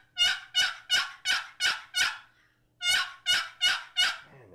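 A custom wooden turkey box call imitates a very young hen with sharp, high, piercing yelps: six in a quick rhythmic run, a brief pause, then four more, loud and close with no talking.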